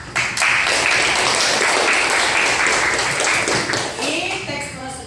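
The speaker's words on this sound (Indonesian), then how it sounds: "Oke, kasih tepuk tangan dulu." Applause from a classroom of students in a teacher's coaching lesson, a dense steady clatter of many hands filling the whole stretch, with voices mixed in underneath.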